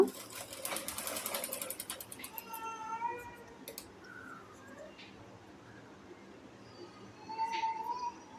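A sewing machine stitches a round petticoat, giving a fast steady mechanical rattle up close for the first few seconds. Then it falls quiet, leaving faint room tones and a brief voice-like sound.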